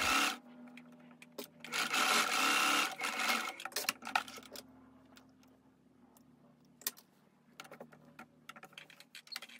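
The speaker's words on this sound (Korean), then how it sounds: "시접을 주머니 쪽으로 젖혀서 겉면에서 이렇게 탑 스티치를 한 번 더 해줍니다" A sewing machine top-stitching the pocket seam of a high-neck pleated dress, running in a loud continuous burst at the start, then quieter fabric handling and intermittent short stitching bursts with clicks.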